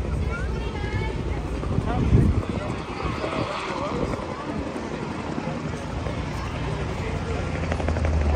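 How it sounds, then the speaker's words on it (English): An aircraft engine drones steadily overhead at the Oshkosh 2023 air show, loud and continuous, with crowd chatter and wind noise mixed underneath. "The plane that just flew overhead"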